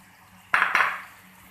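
A spoon stirring mashed chickpeas into masala in a cooking pot gives two quick metallic clinks against the pot, close and fairly loud, followed by soft fading scraping.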